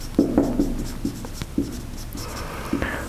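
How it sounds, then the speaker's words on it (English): Chalk or marker strokes on a board during a university estimation lecture, a series of short tapping scrapes in uneven rhythm at moderate distance, with faint room hum between and no talking. "Let me write with the proper color."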